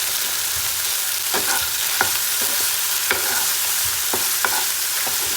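Cabbage manchurian stirred and fried in a street-style pan, a steady sizzle broken by repeated sharp scrapes and clacks of the spatula, fairly close, with no voices.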